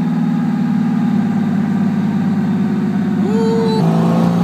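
A Datsun Z with an RB30 engine idles loud and steady, its low drone shifting as the revs climb sharply near the end, with no talking.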